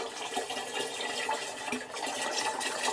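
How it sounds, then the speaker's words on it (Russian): Engine oil splashing out during an oil change on a car, a continuous close liquid gush and spatter with no pauses over the whole stretch. "Брызгает. Ну, Брызгает"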